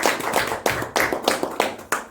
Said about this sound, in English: please give a big round of applause to Star Students